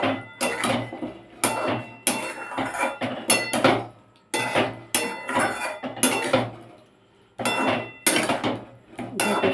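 Boiled, fried and spiced arum roots (kochu mukhi) tipped into a metal cooking pan, giving loud, repeated clattering and clinking bursts separated by short pauses, with no talking.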